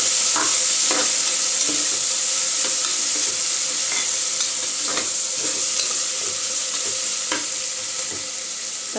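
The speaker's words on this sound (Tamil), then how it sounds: "தக்காளி நல்லா வதங்கட்டுங்க." Tomatoes sautéing in a pan for chicken biryani: a constant loud sizzle broken by repeated spoon scrapes and clicks of stirring, close and with no voices.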